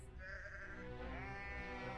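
Sheep in the Deeeer Simulator video game bleat in long, wavering calls, two drawn-out cries that follow each other over a low steady background hum, close and clear.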